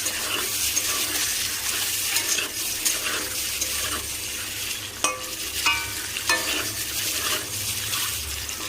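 Eggs fry in hot oil in a pan for an egg curry, giving a steady, close sizzle with small crackles and a few spatula clinks throughout, and no talking.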